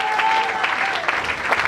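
Church congregation clapping in a steady, fairly loud burst of applause, with a voice faintly audible beneath the clapping.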